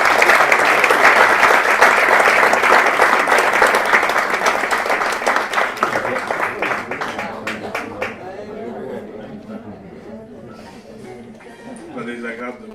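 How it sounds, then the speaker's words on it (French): Audience applause at an award ceremony, loud sustained clapping that thins into scattered claps and then fades, with voices chattering under it toward the end. "ça mérite un applaudissement"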